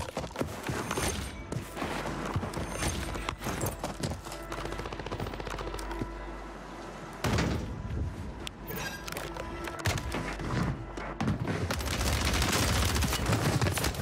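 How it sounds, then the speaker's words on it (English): Gunfire from many players at once in Call of Duty Warzone on Rebirth Island, dense bursts of shots and rattling automatic fire running almost without pause, loud and close with more distant shooting layered beneath. "But like everyone is shooting in this lobby."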